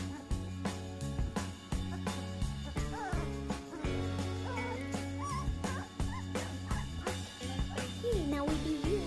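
Three-week-old puppies whimpering and yipping in thin, high cries, recurring over steady background music.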